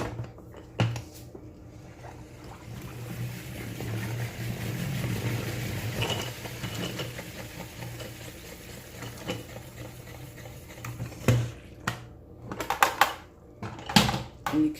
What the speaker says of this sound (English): I'm going to use the salad spinner to dry this all out.